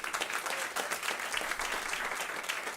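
A live audience at a climate action event on food waste gives brief applause for sponsoring partners. The clapping is steady and moderately loud, with individual claps audible in the crowd wash and no speech over it.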